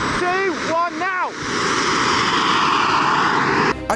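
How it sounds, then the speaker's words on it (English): A foam board and packaging tape RC model jet with a micro gas turbine engine whines loudly in a steady high-pitched roar after brief rising tonal sweeps, with voices over the start. "This is a jet-powered model plane I've spent the last month building"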